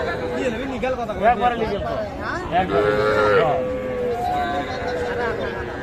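Cattle at a busy Raniganj haat cattle market, where small heifers and bull calves are traded, moo repeatedly in drawn-out calls over constant crowd chatter and nearby voices.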